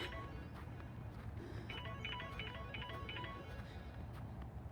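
A mobile phone rings outdoors in a park, a faint repeating tonal melody over steady wind and background rumble.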